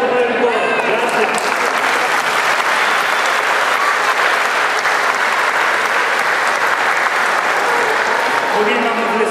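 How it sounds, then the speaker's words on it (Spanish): A church congregation applauds its choir after a Spanish-language Mass in Burlington, North Carolina: loud, sustained dense clapping that fills the room evenly for the whole stretch, with a voice briefly audible at the very start. "Un gran aplauso para el coro."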